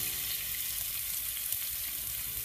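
Chopped onions frying in hot coconut oil in a heavy pan give a steady, dense sizzle that holds evenly throughout, close and alone with no voices.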